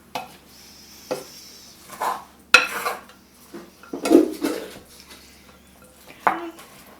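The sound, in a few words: mixing corn salad with tomatoes in a bowl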